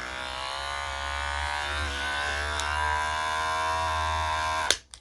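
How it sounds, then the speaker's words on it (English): Buzzing of cordless Wahl-brand hair clippers running steadily and a bit low on charge, a close, continuous electric hum that cuts off abruptly near the end. "Okay, so these are the clippers that I use."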